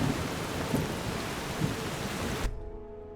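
Steady heavy rain in Skyrim with thunder rolling through it, a loud continuous downpour punctuated by a few deep booms, then cutting off abruptly to near silence at the end.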